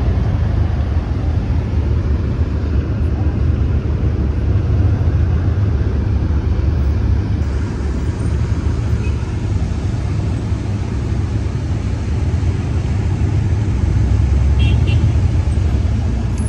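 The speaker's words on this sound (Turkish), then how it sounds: "V8'de ne kadar güzel homurduyor değil mi?" A V8 engine rumbles in a deep, steady, low drone that stays loud and continuous from a car on the road, with no voices over it.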